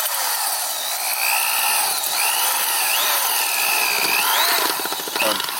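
A power drill fitted with a bulb auger bores down into rocky garden soil, its loud, close motor whine rising and dipping in pitch as the bit catches, jiggles and kicks back.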